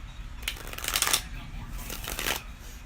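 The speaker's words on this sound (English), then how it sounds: "One more shuffle." Tarot cards being shuffled in two quick bursts of crisp, riffling flutter, close by and fairly soft, with a quiet pause between them.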